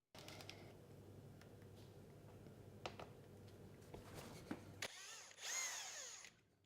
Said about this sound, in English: next one, I drill some pilot holes